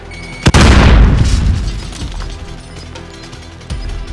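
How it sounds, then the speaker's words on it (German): A grenade goes off in Call of Duty Warzone: a sudden loud close blast with a long rumbling decay, followed by a quieter thump a few seconds later. "Hilfe, Granate!"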